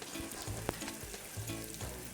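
Meat patties sizzle on a grill in a metaverse cooking game, a soft steady fry with crackle and brief clicks, heard alone and close.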